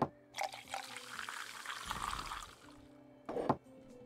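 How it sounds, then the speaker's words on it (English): Drinks being poured fresh in the tavern game Tavern Manager Simulator: a steady liquid pour runs for a couple of seconds, with brief clinks and a second short splash near the end, fairly quiet and with no talk. "I'll pour those fresh for you."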